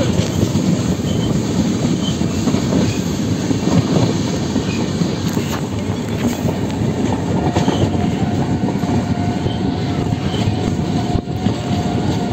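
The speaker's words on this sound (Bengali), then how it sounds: "আমাদের গাড়োয়া এক্সপ্রেস এখন ফতেপুর সিকরি বেরোচ্ছে" The Garba Express rumbles steadily past near Fatehpur Sikri, with loud continuous rolling wheel noise, rail clatter and faint high squeals throughout.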